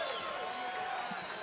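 An arena crowd in Fresno keeps up a broad wash of cheering and clapping after a submission win at an MMA tournament bout, the roar steady and even across the short stretch.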